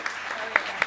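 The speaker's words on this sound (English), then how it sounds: "Join me in a round of applause for Karmen Fore." An audience at a transportation summit applauds, a brief burst of dense clapping with a few sharp, louder individual claps standing out.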